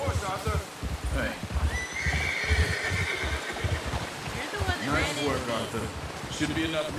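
A horse in Red Dead Redemption neighs and whinnies loudly, with clip-clop hooves, agitated snorts and someone talking over it throughout.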